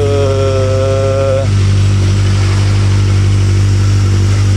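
Close-up Kawasaki ZX25R with an Akrapovic exhaust: a brief rising rev blip at the start, then settling into a steady, bassy idle drone that continues loud and alone.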